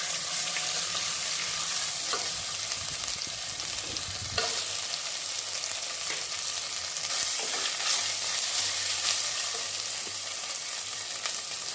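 Ginger-garlic paste frying in a pressure cooker for veg biryani, a loud, dense, continuous sizzle and hiss that never lets up, with occasional stirring scrapes and clicks breaking through, close and without any voices.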